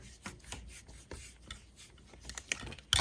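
Bulky yarn wrapped repeatedly around a form for a crochet elf hat, giving soft rubbing and rasping strokes in an uneven rhythm, close and fairly quiet, with a sharper scrape near the end.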